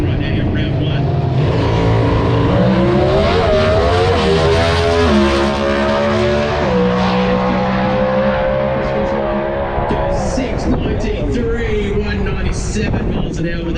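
Drag racing cars accelerate hard down the strip, a loud rising engine roar with shifting pitch lasting many seconds while a commentator talks over it.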